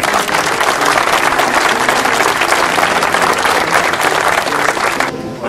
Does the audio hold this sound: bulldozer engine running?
no